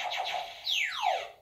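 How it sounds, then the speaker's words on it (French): A game show contestant's buzzer plays a short electronic effect: a few quick warbling tones followed by a falling sweep, clean and fairly faint, with no voices. "Voilà, ça c'est le buzzer de Nicole."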